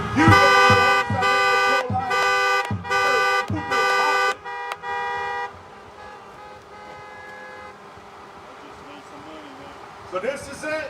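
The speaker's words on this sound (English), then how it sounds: "clap your hands, honk your horns, make some noise" Several car horns honk at a street rally in a rapid series of loud, sustained blasts, then fade into a murmur of distant traffic and voices.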